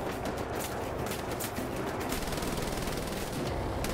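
Enemy gunfire aimed at the player in Wolfenstein: The New Order, a sustained rattle of rapid automatic shots close and loud, hammering steadily with no voices over it.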